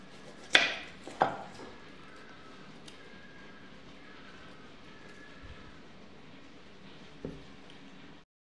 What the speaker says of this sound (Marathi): हे कांदे बारीक चिरून घेते।